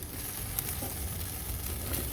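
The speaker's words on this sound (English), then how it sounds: "You hear that sizzle" Chicken thighs sizzling over hot charcoal on a Weber kettle grill, a close, soft, continuous crackling hiss with a few faint pops.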